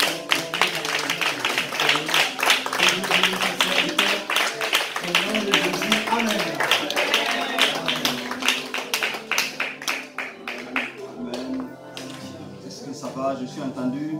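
A church congregation applauding, dense rapid hand clapping that fills the room steadily and then thins out near the end, with voices mixed in underneath.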